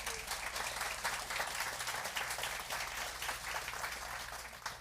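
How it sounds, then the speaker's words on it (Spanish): Steady applause from a church congregation, a dense patter of many hands clapping continuously at moderate, slightly distant volume. "sí, un aplauso."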